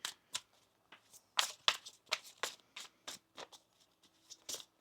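Tarot cards shuffled by hand in a row of crisp, quick riffling bursts, close and fairly loud, with short pauses between them.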